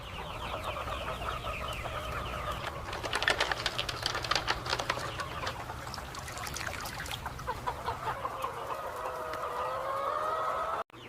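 A flock of chickens on a poultry farm clucks and calls steadily at close range, with busy overlapping clucks and a few louder bursts, while a low hum runs beneath.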